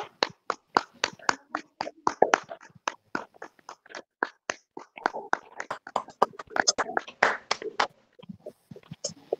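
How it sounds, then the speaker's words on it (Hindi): Scattered hand claps from a small group during a daily yoga program, sharp and sparse at first, then more irregular, with soft voices murmuring between them. "एक बार जोरदार अभी अर्पिता के लिए तालियां हो जाए पूरे सदन की तरफ से।"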